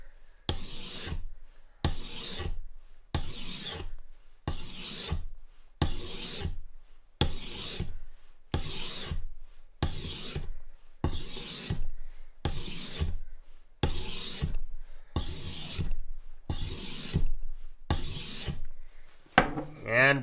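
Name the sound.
sharpening a fleshing knife blade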